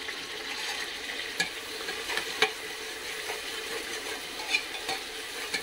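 Tomatoes being stirred with salt in a frying pan, a soft continuous sizzle with scattered scraping clicks of a spoon against the pan, fairly quiet and without talk.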